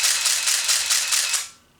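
A Nikon F3 camera fitted with an MD4 motor drive fires a rapid burst of shutter clicks, about a dozen quick mechanical snaps in an even rhythm lasting roughly one and a half seconds, close and clear with nothing else audible.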